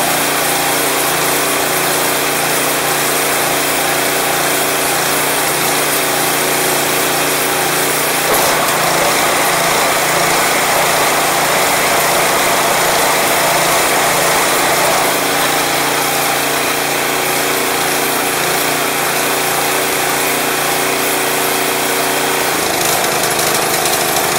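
A Craftsman 179cc Powermore snow blower engine runs at a steady, loud idle from start to finish, with a constant mechanical drone and small wavers that hint at slight surging.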